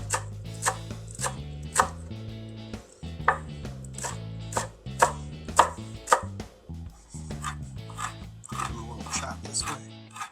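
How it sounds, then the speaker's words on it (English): A knife chops fresh onion greens finely on a board: quick, uneven runs of sharp, close cutting knocks with brief pauses between bursts. "I'm going to take some of these nice fresh onion greens, chop them up real fine."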